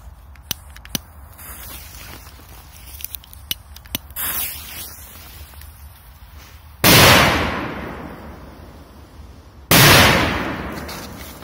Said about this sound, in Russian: Вот и петарды Thunder King.